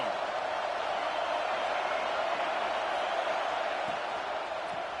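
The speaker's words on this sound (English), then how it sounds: "This crowd ready to make its presence known." A stadium crowd in College Football 26 sends up a continuous, even roar that fills the whole stretch without breaks, moderately distant and steady.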